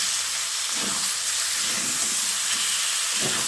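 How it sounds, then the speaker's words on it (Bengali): Chicken fries in a pan with a loud, continuous steamy hiss, while a few muffled stirring scrapes come through beneath it, close up, with no voices. "চিকেনটাকে এইভাবে নেড়ে চেড়ে বেশ কিছুক্ষণ সময় ধরে ভেজে নেব"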